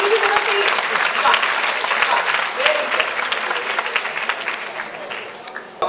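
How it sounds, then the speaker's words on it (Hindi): Sustained applause from the audience at a national-level speech competition, a steady loud wash of many hands clapping that gradually thins toward the end, with faint voices under it. "खाना खाने के बाद तालियों के लिए कहने की भी जरूरत नहीं है।"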